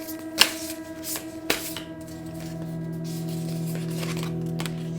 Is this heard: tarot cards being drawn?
yes